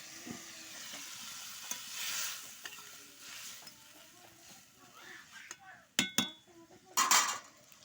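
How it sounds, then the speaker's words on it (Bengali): Masala stirred and fried in a pan, soft scraping and sizzling close by, with a few sharp metallic clinks of spoon against pan toward the end. "ভালো করে নাড়াচাড়া করে নিয়েছি।"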